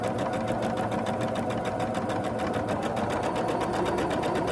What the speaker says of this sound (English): And then just sew your 1/4 inch seam.